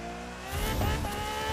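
A Ferrari F12TDF in the racing game The Crew 2 brakes on uneven ground and slides toward a wall, its engine whine dropping as tires scrub and a low scraping rumble swells midway.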